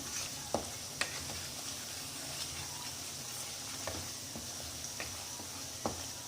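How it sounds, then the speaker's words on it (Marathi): Ingredients for moth bean bhaji (matki usal) sautéed in a pan, with a soft steady sizzle broken by a few sharp spatula clicks and scrapes, fairly quiet and close, with no talking. "1 मिनिट याला सुद्धा परतून घ्यायचं छान."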